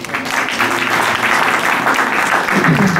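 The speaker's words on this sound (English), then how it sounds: "Give him a clap." Loud, steady applause from an audience at a charity show, a dense continuous clapping that fills the space for a few seconds.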